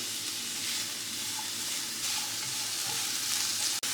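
Curry leaves and tomato sautéing in a pan for a quick high-protein vegetarian dish, a steady close sizzle and hiss of frying that runs throughout, with a sharp clink near the end.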